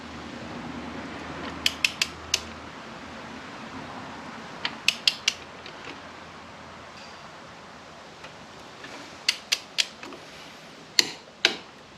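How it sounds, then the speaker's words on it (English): A socket wrench on the front axle nut of a Softail motorcycle ratchets in short bursts of three or four metallic clicks, with pauses between, close and clear in a quiet garage. "While holding the screwdriver through the hole in the axle on the right side, we're gonna torque it."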